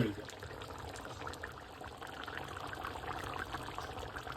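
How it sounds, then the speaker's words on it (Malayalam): Coconut milk pours into a simmering Kerala-style duck curry, producing a continuous soft liquid trickle and splash at moderate volume that holds steady for a few seconds. "ഇതിനകത്തോട്ട് കോക്കനട്ട് മിൽക്കാണ് ഒഴിക്കാൻ പോകുന്നത്"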